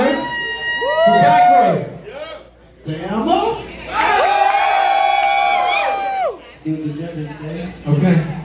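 A rap battle crowd at a finals battle cheers and whoops loudly in bursts, with shouting voices and a host talking between the surges of noise.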